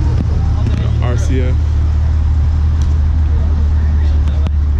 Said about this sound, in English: As you see, the cars are coming in.